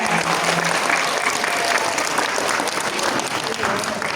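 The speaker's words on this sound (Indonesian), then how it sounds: "Tepuk tangan untuk kita semua." Students in a junior high school hall applaud together, a dense, steady wash of clapping that holds loud throughout with a brief voice at the start.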